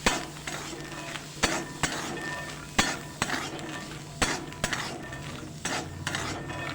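Peanuts roasting in a pan after a splash of salt water, stirred steadily: repeated close scraping strokes of a spoon against the metal, coming at an uneven rhythm over a soft, continuous background hiss.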